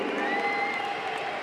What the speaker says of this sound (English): You can see the crowd urging him on the far side of the arena